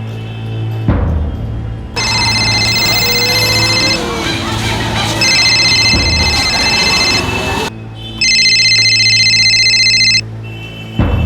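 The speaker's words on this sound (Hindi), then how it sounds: "जयन, पापा का फोन है।" A telephone rings in repeated electronic bursts over a busy background of voices and noise, loud and close.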